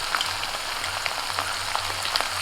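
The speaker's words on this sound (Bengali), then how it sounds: "মশলাটা দু মিনিট কষিয়ে নিয়ে আমি উনান থেকে নামিয়ে নিয়েছি" Spice masala of ground coriander, cumin, green chilli paste and salt frying in a wok with a little water, giving a steady dense sizzle with fine crackling pops throughout, close and even.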